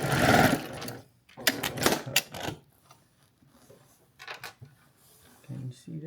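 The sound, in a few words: sewing machine sewing quilt binding into a corner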